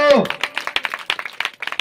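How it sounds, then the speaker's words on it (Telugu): Congregation at a special prayer gathering clapping together in quick rhythmic bursts of claps, close and lively, with a voice speaking briefly at the start. "చప్పట్లు కొట్టు."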